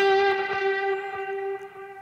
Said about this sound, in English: And we are going to use the magneto reverb